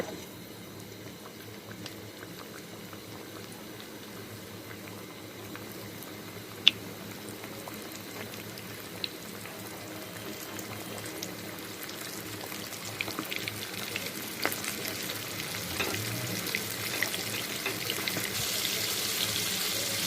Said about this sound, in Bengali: এখন দিব চিকেন ফ্রাই জন্য একটা করে কড়াইয়ের মধ্যে চিকেন।